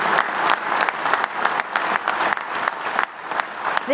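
Dense, loud applause from a big conference audience at a U.S. legislative event, steady, continuous clapping filling the whole stretch.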